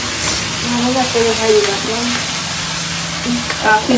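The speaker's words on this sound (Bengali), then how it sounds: "কুমড়ো বড়ি দিয়ে ইলিশ মাছ, কুমড়ো বড়ি ভাইজা দিচ্ছে" Pumpkin lentil dumplings fry in a pan with a steady, close sizzle and stirring scrapes, while a voice talks intermittently over the cooking.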